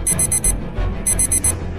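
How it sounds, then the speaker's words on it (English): Phone alarm beeping in rapid bursts of four high electronic tones, repeating loud and clear with brief gaps between groups. "I had set my alarm at 4:30, which must have been the source of all the noise"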